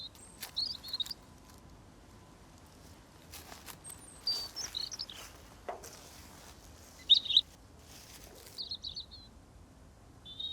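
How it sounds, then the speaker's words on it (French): Song of a European robin played back in a Paris park: short high thin warbling phrases scattered between pauses, fairly faint against a quiet outdoor background. "on diffuse le chant d'un rouge-gorge étranger sur le territoire d'un autre rouge-gorge"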